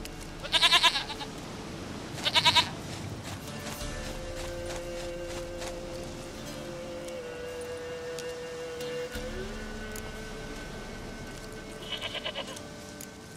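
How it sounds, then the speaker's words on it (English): Goat bleating in the video game The Witcher 3: Wild Hunt, two loud bleats near the start and a softer one near the end, over a steady ambient game soundscape with no talking. "goat of mine, dearest, sweetest goat."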